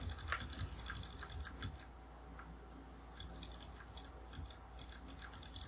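Quick, uneven clacking on a worn Apple IIc computer keyboard, close and fairly quiet, typed in bursts with a short pause midway and no talking.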